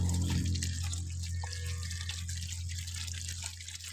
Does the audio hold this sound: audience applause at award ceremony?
no